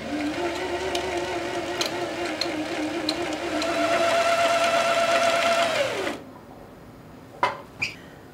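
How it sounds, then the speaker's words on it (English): A sewing machine winds shirring elastic onto a bobbin with a steady high whir that rises in pitch, holds, then spins down and stops. Two sharp clicks follow close by. "So now I'm going to wind my shearing elastic onto the bobbin"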